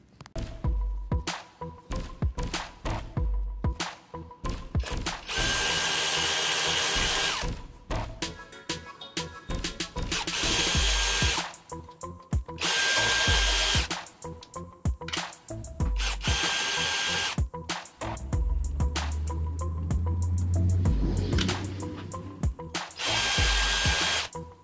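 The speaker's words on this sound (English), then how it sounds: "we're going to go ahead and take these bolts off right here and pull this thing out" A power tool drills out the water pump bolts on a 2002 Oldsmobile Silhouette, running in several loud, sustained bursts of whirring, separated by shorter ratcheting and clanking sounds.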